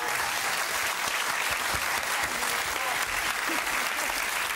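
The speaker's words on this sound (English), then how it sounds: "A round of applause" A studio audience on a television quiz show breaks into loud, sustained applause, a thick continuous roar of clapping that stays level throughout.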